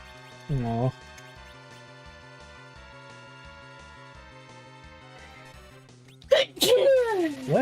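A single sharp, close sneeze bursts out over looping retro game music from a modded Final Fantasy IV, and a loud, animated voice follows near the end.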